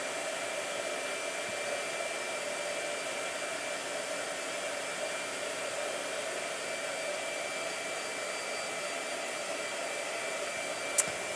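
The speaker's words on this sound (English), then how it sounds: "Go ahead, blow dryer." A blow dryer runs steadily and loudly for the whole stretch, a constant close whoosh with no pauses, used while painting watercolor skin tones.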